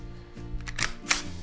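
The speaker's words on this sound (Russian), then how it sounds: "Для этого извлекаем магазин," The magazine slides out of a KJW Glock 17 gas blowback airsoft pistol with two quick, close plastic-and-metal clicks in a quiet room.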